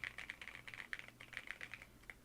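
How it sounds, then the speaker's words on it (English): Steady, quick keystrokes clatter on a custom-built computer keyboard, an even run of crisp clicks alone in a quiet room with no voices. "This is the keyboard I like to use typically when I'm gaming or I'm typing."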